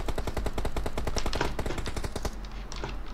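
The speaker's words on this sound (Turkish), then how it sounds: "silah deniyor" Automatic gunfire from a weapon being tried out in a video game zombie mode, a fast, even stream of shots for about two seconds, then faint background game noise.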